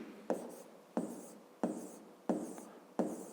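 Pen or chalk writes numbers by hand during a fifth-grade math lesson, making five evenly spaced scratchy strokes close by, each a sharp onset fading quickly, with no talk over them.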